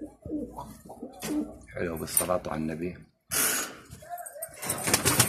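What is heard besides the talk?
pigeons cooing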